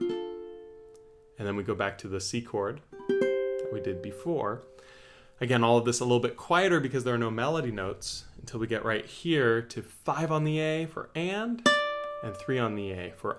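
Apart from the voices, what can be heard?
No everyday noises stand out.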